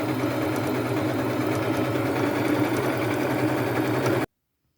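A sewing machine runs continuously, stitching lace onto fabric for a boho fringe purse with a dense, even motor hum and needle chatter that cuts off abruptly near the end.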